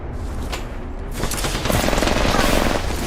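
Sustained automatic gunfire in the Apex Legends battle royale, dense rapid bursts that start a little thin and swell to a loud, continuous fusillade from about the one-second mark onward, with no talk.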